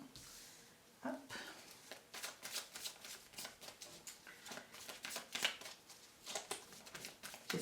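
Tarot cards handled and shuffled, with quick, soft, crisp riffling and flicking bursts repeating close by at a quiet level and no talk.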